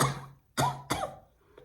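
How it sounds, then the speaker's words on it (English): A woman coughs twice in quick succession, two sharp, fairly loud bursts close together, followed by a faint trailing sound, with no talking. "That's her. She coughed."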